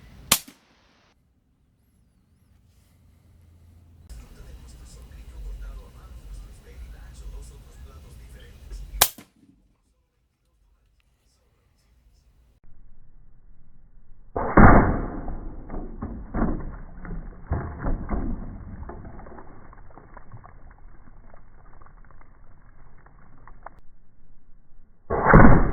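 Air rifle firing .22 and .25 pellets at a 25-yard target: a few sharp, isolated cracks spaced several seconds apart, standing out over a low background hiss and rumble.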